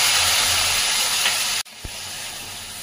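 A splash of water hits a hot kadai of seasoned tarka dal. A loud, steady sizzling hiss cuts off abruptly, followed by a single soft thump and a quieter hiss.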